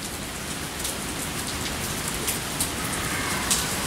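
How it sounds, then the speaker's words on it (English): Steady rain falls and patters on surfaces nearby, a dense continuous hiss with scattered sharper drops, no voices. "So yeah, it's raining."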